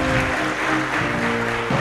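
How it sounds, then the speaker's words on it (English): Applause fills a hall at an African cuisine competition awards ceremony, a dense, continuous wash of many clapping hands with steady loudness, while a voice and hum run underneath. "A round of applause for Maseno"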